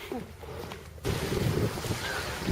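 Strong gusty wind at the East Cowes seafront buffets the microphone, with a roaring rush that surges after a quieter opening moment, suggesting open, exposed air.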